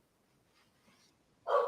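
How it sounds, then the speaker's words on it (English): A dog barks downstairs in a house: a single fairly distant bark near the end follows a short stretch of quiet. "He's barking at something downstairs right now."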